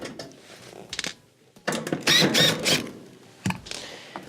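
Phillips screws are backed out of a Whirlpool stove's bottom rear panel, giving several short ratcheting, gritty turning bursts with brief pauses between, close and fairly clear.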